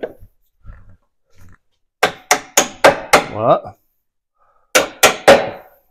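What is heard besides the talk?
hammer striking car suspension arm bolt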